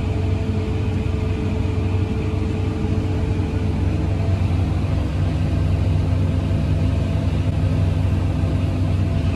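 A Fendt 1050 tractor pulling a grain cart during corn harvest, heard from inside the cab as a steady, loud low engine drone and rumble that holds constant throughout with no talk.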